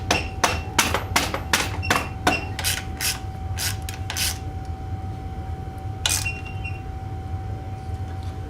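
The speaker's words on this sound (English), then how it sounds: "We're going to pound this in with a hammer, rubber mallet" A quick series of sharp rubber mallet blows on a metal motorcycle part, about a dozen strikes in an uneven rhythm, then a pause and one last hit over a faint steady hum.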